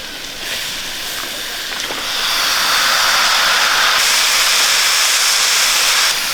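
One and a half kilograms of cleaned chicken pieces hit a hot pan for a chicken curry, setting off a loud, steady sizzle and hiss that swells after a couple of seconds and holds, close and with no talking over it.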